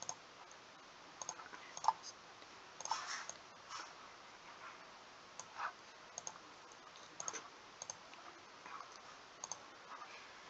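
Mouse clicks while playing Raid Shadow Legends, scattered sharp close taps at an irregular pace, some in quick pairs, over a quiet background with no talk.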